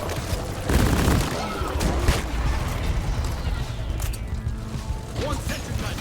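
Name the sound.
sentry gun firing in Deep Rock Galactic video game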